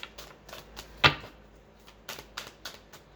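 Tarot cards shuffled by hand close up make a quiet series of riffling snaps and soft taps, with one sharp louder slap partway through, and no speech.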